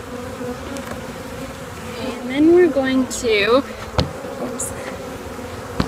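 Honeybees from a package buzz steadily around an open hive during installation, a close, droning hum with sharper rising whines as individual bees fly past, while a person speaks briefly.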